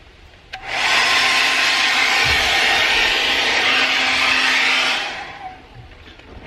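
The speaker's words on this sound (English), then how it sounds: "let's see if my hairdryer is strong enough to shrink it down" A hair dryer switches on and blows a steady, loud whooshing hum for about four seconds while heating shrink tubing on a Toyota Tundra shifter, then winds down and cuts off.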